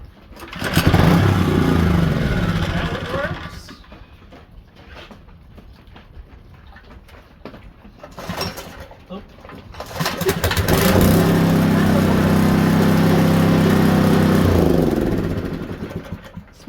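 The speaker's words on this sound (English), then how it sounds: "both the engines run, the Chinesium runs and the Honda runs." A small Honda engine and a cheap Chinese-made small engine, one with bad valve guide seals, run in a shed: a loud rough idle and revving burst, a quieter stretch, then a steady loud running drone.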